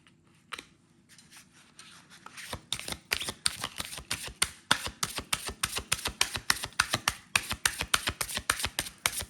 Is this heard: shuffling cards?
yes